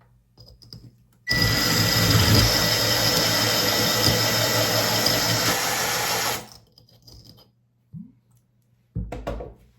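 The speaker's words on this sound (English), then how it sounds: "Add some more water and just start drilling again." A drill bores a hole in a glass jar with water, a steady loud whirring grind running for about five seconds before stopping abruptly. Brief quiet handling noises follow, then another short burst.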